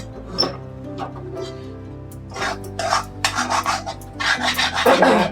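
A spoon stirs egg into rice in a cooking pot, giving rhythmic, close scraping and rasping. The scraping is sparse at first, then turns faster and louder toward the end.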